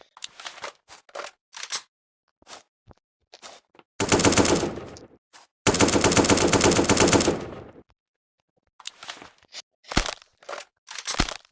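Rapid automatic gunfire from a shooting video game comes in two loud sustained bursts, framed by scattered short single shots and clicks, with no talking.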